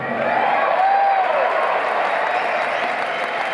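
Concert crowd at a show in St. Paul, Minnesota, cheering and applauding continuously and loudly, a dense wash of claps and shouts with a whistle rising through it.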